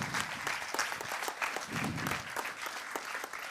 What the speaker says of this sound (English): So I want to do another round of thank you and claps.